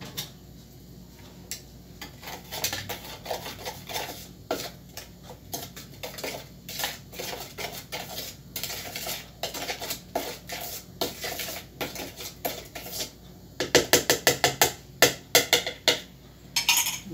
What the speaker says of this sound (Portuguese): Misture delicadamente com uma colher.